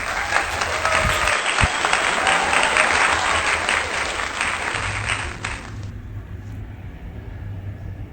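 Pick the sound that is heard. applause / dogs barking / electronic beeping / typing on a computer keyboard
applause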